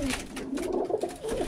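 Birmingham Roller pigeons cooing in a loft, a soft close series of throaty rolling coos repeating over a faint background.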